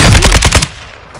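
Automatic gunfire from Call of Duty: a loud, close rapid burst of about six evenly spaced shots, then a fading tail of echo and quiet background.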